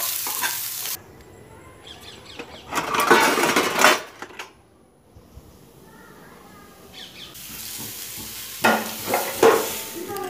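Papaya and eggplant frying in a pan, stirred in two loud bursts of scraping and sizzling with a quieter, steady fry between them, heard up close.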